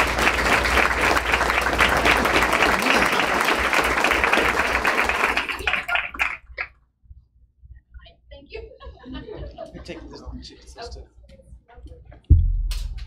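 Applause from the audience at a school board of education meeting for a high school student author: thick, sustained clapping for about six seconds that cuts off abruptly, followed by quiet room noise, faint talk and a few scattered sounds.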